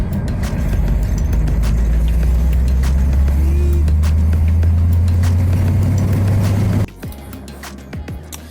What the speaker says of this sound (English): So here we are, driving around.